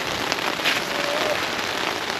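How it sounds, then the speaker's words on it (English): Steady rain patters densely on a thin, taut leaky tent close by at a motorcycle campsite, a continuous hiss of drops with faint sounds of movement. "It's raining a little bit."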